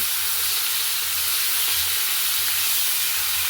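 Pieces of pona fish fry in a pan with a little oil, giving a steady, loud, close hiss and sizzle that runs without a break and with no talking.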